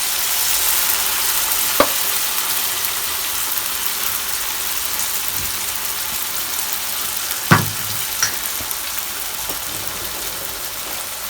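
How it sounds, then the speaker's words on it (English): Steady loud sizzle of Jamaican flour fritters frying in a pan of oil, with a few sharp utensil knocks and clicks scattered through the hiss. "Frying fritters."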